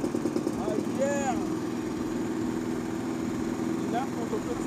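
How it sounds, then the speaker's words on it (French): A lawn mower engine runs steadily in a garden, a continuous low rumble close by, with people talking over it. "Là, c'est parti pour la tondeuse, donc pour la tonte"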